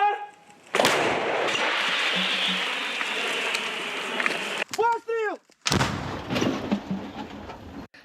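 A heavy artillery blast booms and rumbles on, followed by a short burst of sharp sounds and a second loud blast with a lingering echo.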